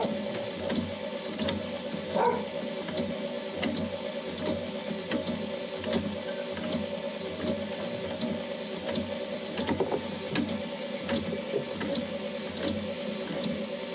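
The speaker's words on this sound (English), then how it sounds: "whisk all of that together with the whisk attachment from the KitchenAid" KitchenAid stand mixer with the whisk attachment beating unleavened bread ingredients, a steady loud mechanical whir with rhythmic clicking and rattling that runs continuously throughout, no voices.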